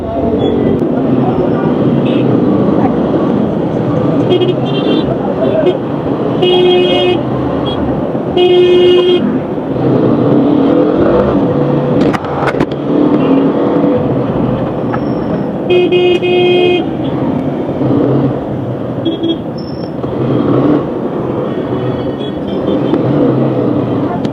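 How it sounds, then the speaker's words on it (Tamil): Busy bus stand in Tiruvannamalai, with a steady roar of engines and crowd noise, repeated loud horn toots from buses and vehicles at intervals, and people talking throughout. "Tiruvannamalai bus stand."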